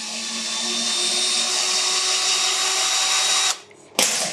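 A Bosch battery drill spins steadily with a loud, close whine while trying to back out a bent screw, then briefly stops and restarts near the end.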